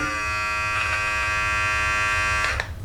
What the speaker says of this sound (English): I can just cut that with the trimmer